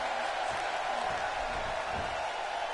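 Crowd at a Dukes Championship Wrestling show cheering, a steady wash of distant massed voices and noise that holds level throughout with no single standout burst.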